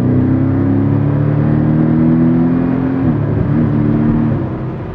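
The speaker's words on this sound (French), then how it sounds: "Alors, le son est relativement flatteur. On a ici l'échappement sport sur cette version." A Porsche 718 Cayman S flat-four turbo with sport exhaust drones loudly and steadily near the listener, its pitch holding, then dipping and easing off toward the end, with no talk.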